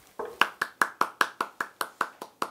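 A single person claps about a dozen times in a steady, even rhythm, crisp and close, during a history lecture on the March 1st Movement.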